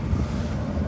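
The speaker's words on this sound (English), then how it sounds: "It's a little windy" Wind blows in gusty conditions during tornado recovery, a continuous low rumbling buffet across the microphone for under a second, with no speech.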